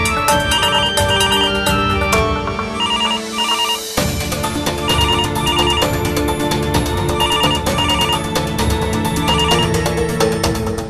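A phone rings on a landline call, a repeating electronic ringtone pattern heard loud and continuous over a dense musical score, with no talking.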